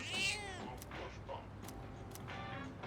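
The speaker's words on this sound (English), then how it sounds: "The cat is purring loudly." A cat in Persona 3 Reload voices a near, moderately loud meow at the start, with softer cat sounds and faint clicks trailing over steady background noise, lasting a few seconds.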